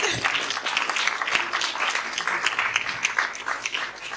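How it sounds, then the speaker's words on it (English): A crowd at a conference closing session applauds steadily, a dense wash of many hands clapping at moderate volume, heard from a distance. "Some round of applause, please."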